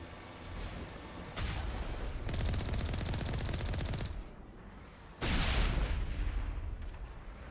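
Heavy cannon fire from Mass Effect erupts in two long loud blasts, rumbling and crackling, separated by a short quieter stretch.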